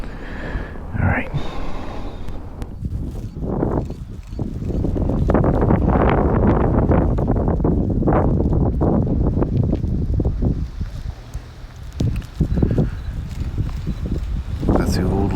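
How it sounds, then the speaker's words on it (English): Strong wind roars across a hillside at Mt St Helens, buffeting the microphone in heavy gusts that rise and fall, while a person talks underneath it. "It's so windy, I'm afraid you're not going to hear me at all."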